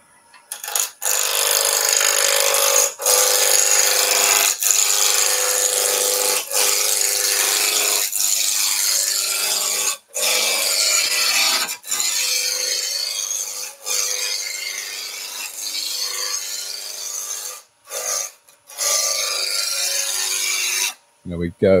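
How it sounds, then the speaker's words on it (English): Roughing gouge cutting a wooden blank on a lathe, turning a seed pot maker down to a near cylinder: a steady, loud rasping scrape that runs continuously, broken by a few brief pauses as the tool lifts. "We'll go with a roughing gouge."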